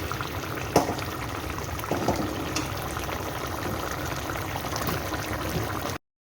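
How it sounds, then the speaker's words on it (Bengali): Spicy tangra fish curry boils in a pot, a steady soft bubbling with occasional pops and louder spatters, running evenly before cutting to silence. "ট্যাংরা মাছের ঝাল ফুটে গেছে"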